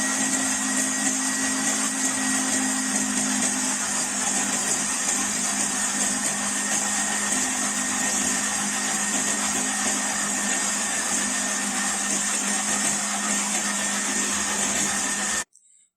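A food processor running steadily to knead dough for sweet tikiyan, a constant loud motor whine and churning held for about fifteen seconds before cutting off abruptly.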